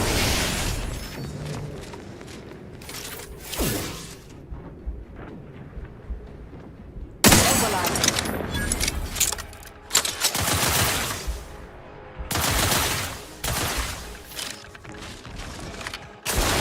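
Rifle gunfire in the video game Outer Worlds 2 comes in loud broadband bursts, several clustered volleys separated by short pauses, with mechanical clatter and game ambience between shots.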